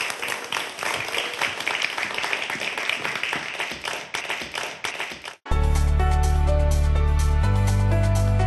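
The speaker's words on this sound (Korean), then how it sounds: "여러분 박수 부탁드립니다." An audience at a Seoul National University life sciences lecture applauds for about five seconds, dense and steady, then the clapping cuts to loud sustained music.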